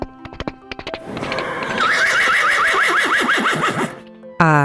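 Hoof clip-clops tap a few times before a horse lets out a long, loud, quavering whinny, followed by a sharp, bright sound right at the end.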